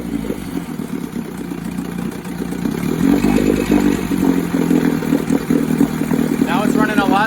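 A Johnson/Evinrude OMC outboard motor runs after its carburetors were reset, a close, rattling, steady engine note that grows louder after a few seconds and then holds even, with some clatter and a brief voice.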